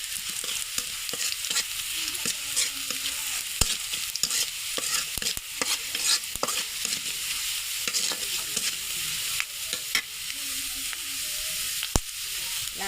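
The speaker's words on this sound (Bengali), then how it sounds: "পাঁচ মশলা দিয়ে একটু ভাজা ভাজা করে একটু লাল লাল করে নেব" Panch phoron spices fry in hot oil in a pan while a utensil stirs and scrapes them, giving a soft steady sizzle broken by sharp clicks of the spoon against the metal, close up and without talk.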